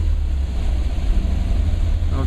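Porsche 356 engine with an oil pressure modification running at idle, a close, loud, steady low rumble that stays even for the whole short stretch, with no talk over it.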